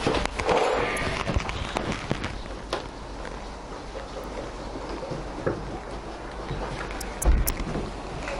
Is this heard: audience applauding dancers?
no